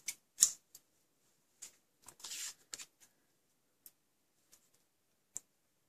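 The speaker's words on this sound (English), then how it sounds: "So snip these now at an angle." Sharp scissors snipping ribbon tails at an angle for a handmade card, a handful of crisp, close, separate cuts and small paper rustles with quiet pauses between them.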